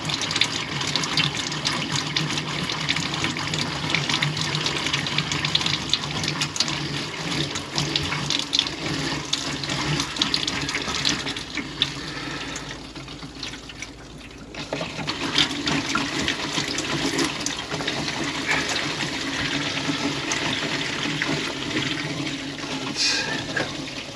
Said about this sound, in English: So that's primed up. The pump's still going.